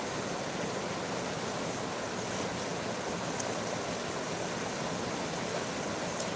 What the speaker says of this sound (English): I'm just taking in the sound of the water here for a few minutes